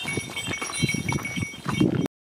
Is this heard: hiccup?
no